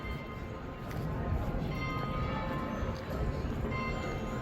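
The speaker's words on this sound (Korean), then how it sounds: "어김없이 정시가 되니 울리는 성당의 종소리" Church bells in Porto ring on the hour, with faint sustained metallic tones and repeating strikes that stay distant and soft beneath a broad outdoor wash of ambient noise.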